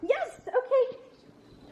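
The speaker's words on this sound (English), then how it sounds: "one of her newer tasks is learning how to bark on command." A young dog learning to bark on command gives a couple of short, close yelps and a whiny bark, with a person briefly exclaiming in praise between them.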